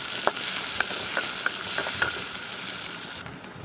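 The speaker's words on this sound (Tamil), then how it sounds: "எண்ணெய் ஊற்றிக்கலாம், வெங்காயம் பச்சை மிளகா போட்டுக்கலாம், அது நல்லா கிண்டி விட்டுக்கலாம்." Onion and green chili frying in oil in a pan for a squid gravy, a steady bright sizzle with a few soft clicks of stirring, close and alone with no voices.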